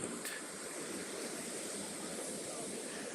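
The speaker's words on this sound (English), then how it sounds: "I'm here at the beach to see the waves caused by the storm" Storm-driven ocean waves at a beach make a steady, broad hiss and rumble of surf that stays fairly faint and even throughout, with no voices.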